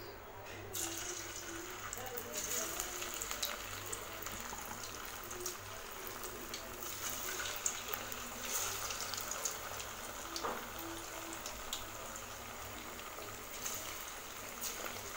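Hot oil sizzles and bubbles steadily at low volume throughout as aval (flattened rice) pakoda fries, with occasional faint clinks.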